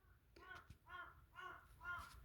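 A crow caws loudly as it flies past outdoors, four harsh evenly spaced calls in a row with no talk over them.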